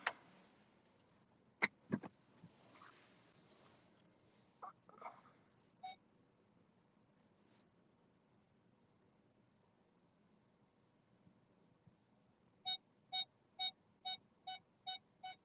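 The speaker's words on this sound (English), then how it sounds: "You're going to hear some loud beeping noises because my backup camera is annoying that way." Inside a car reversing, a backup parking sensor beeps in a fast even series of about eight short tones near the end, after a few scattered clicks and soft thumps in a quiet cabin.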